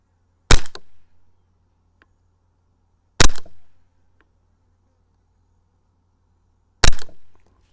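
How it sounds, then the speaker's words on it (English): Three sharp gunshots fired at a target at 30 metres during a red dot sight test, evenly spaced several seconds apart, each loud and crisp with a short decay in otherwise quiet surroundings. "Got to have 3 shots at the middle."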